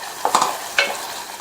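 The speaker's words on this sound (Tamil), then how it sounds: "நம்ம சேர்த்த இந்த மசாலா எண்ணெயிலேயே 2-3 நிமிஷத்துக்கு நல்லா வதங்கட்டும்" Masala sautéing in oil over low-medium flame for a chana gravy, giving a soft, steady sizzle with a few brief stirring scrapes near the start and middle.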